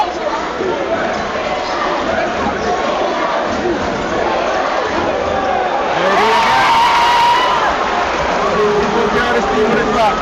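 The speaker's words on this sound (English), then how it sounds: "you hear the crowd getting into it as well now" A high school basketball crowd at a state championship semifinal cheers and shouts steadily throughout, swelling louder near the end, with commentators talking over it.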